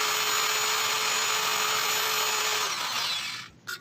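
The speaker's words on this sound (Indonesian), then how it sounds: "Saya amplas ke seluruh permukaan payung klepnya." Steady, bright abrasive hiss of 240-grit sandpaper being worked across the valve head of a Honda Revo Absolute engine, continuous and close for about three seconds, with a faint hum under it, then stopping abruptly.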